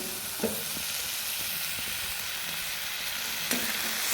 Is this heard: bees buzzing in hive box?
no